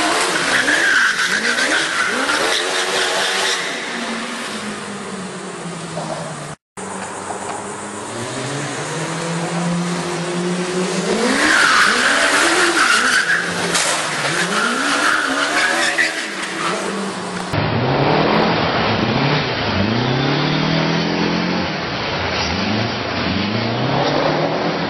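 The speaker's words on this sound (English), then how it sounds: "the dude is on city streets, drifting, fishtailing, doing burnouts" A car drifting, fishtailing and doing burnouts on city streets, its engine revving hard and rising and falling while tires squeal and skid loudly and continuously.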